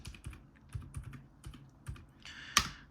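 Typing on a Mac computer keyboard, a few close, quiet key clicks in an irregular rhythm, ending with one louder, sharper keystroke.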